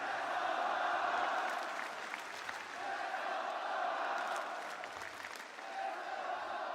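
Roaring crowd of about 10,000 at a Counter-Strike esports arena during a FURIA vs Falcons best-of-five, a steady dense wash of cheering and applause that swells and dips without pause.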